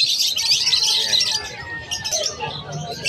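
Cockatiels at a pet market give a dense, continuous chorus of shrill chirps and squawks, loud and close, with faint background murmur.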